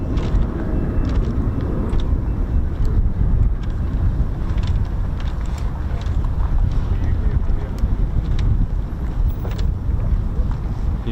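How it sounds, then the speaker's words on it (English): F-35 fighter jets on a low approach at RAF Mildenhall give a steady, broad, distant rumble that holds for the whole stretch, with a voice talking over it. "the rumble that you can hear will be from the F-35s at Mildenhall. Just doing a low approach."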